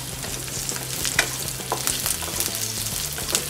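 Bell pepper sautéing in oil in a kadai, a steady close sizzle with scraping stirs and light clinks throughout, no voices.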